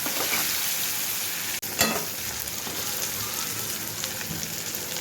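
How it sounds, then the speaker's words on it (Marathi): Cut eggplant sautés in a pan, giving a steady close hiss of frying with a brief clatter and a few stirring scrapes. "त्यामध्येच मी कट केलेली मुलाची वांगी ॲड केली पुन्हा मिनटं परतून घेतली"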